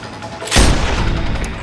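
A single loud sniper rifle shot in Sniper Ghost Warrior 2, a sharp crack followed by a rolling echo tail.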